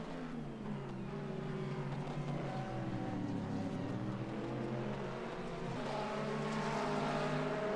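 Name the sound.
sports race cars, Corvette and Ferrari, exiting the Mid-Ohio chicane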